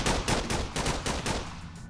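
Rapid bursts of gunfire in a Minecraft roleplay battle, dense and loud, with repeated shots stacking into a sustained automatic barrage that thins slightly toward the end.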